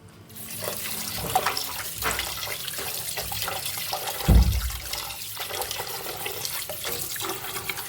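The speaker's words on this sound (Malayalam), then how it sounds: "ചൂടുവെള്ളത്തിൽ ഇടുന്നതിന് മുമ്പ് തണുത്ത വെള്ളത്തിലൊന്ന് കഴുകിയെടുക്കണം." Raw liver being rinsed under a running kitchen tap in cold water, a steady close splashing stream that continues throughout, with a brief louder gush of water partway through.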